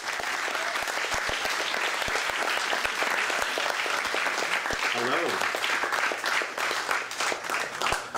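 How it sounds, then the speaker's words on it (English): An audience at a literary event in Los Angeles gives a warm, steady round of applause, dense clapping that carries on evenly and begins to thin toward the end, with a voice briefly heard over it. "Let's please give him a warm round of applause"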